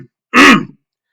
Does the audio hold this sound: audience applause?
no